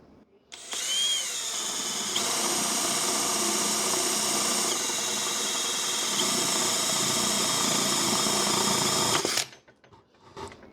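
A Makita DHP490Z brushless cordless drill bores a hole, spinning up sharply into a loud, steady high-pitched whine for about eight seconds, then stopping abruptly, heard close and alone.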